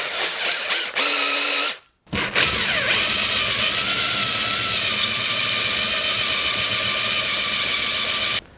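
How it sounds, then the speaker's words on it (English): A 1/4 inch drill bit bores out a broken bolt stuck in a small rake bushing, running as a steady whine for several seconds after a brief start and a short pause, close and loud with no talking. "just grab yourself a 1/4 inch drill bit"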